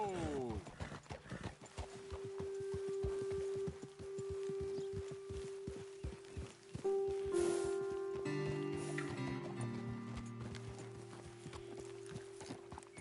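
Horses walking in Red Dead Redemption 2, hooves clip-clopping in a steady, close rhythm with a brief whinny near the start, under tonal game music and a voice talking.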